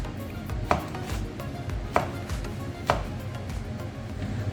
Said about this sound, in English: To cut okra like this is okay?